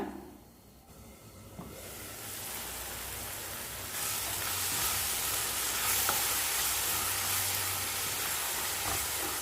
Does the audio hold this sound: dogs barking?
no